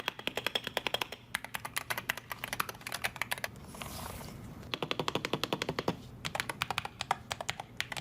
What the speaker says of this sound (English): Their keyboard sounds like a Cherry MX Brown.